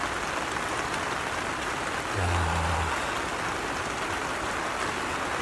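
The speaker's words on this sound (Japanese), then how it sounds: "今日はなんか一日雨らしいですよ。" Steady rain falls on a farm during a harvest day, a dense constant hiss close around, with a brief low hum rising briefly in the middle.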